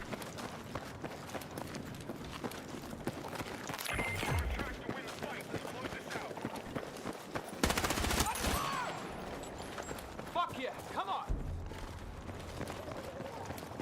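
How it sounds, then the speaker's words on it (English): Rapid automatic fire from a P90 submachine gun in the video game Battlefield 6, sounding in short bursts amid game noise and footsteps, with one loud, dense burst near the middle. "Oh, P90 is fucking smooth as butter."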